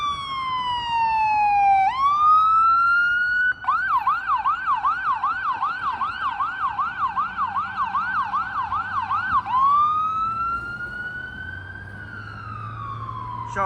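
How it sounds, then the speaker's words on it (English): City emergency vehicle sirens, ambulance and fire, wail loudly and close, sweeping up and down, then switch to a rapid yelp pattern before returning to a slow wail, with traffic rumble underneath. "those sirens are very common to hear around the city"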